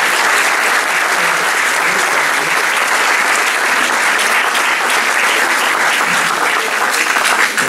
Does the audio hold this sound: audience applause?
yes